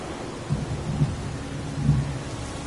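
Rain hisses steadily in the video game Heavy Rain while deep thunder rolls in soft rumbles, swelling three times and fading back into the downpour.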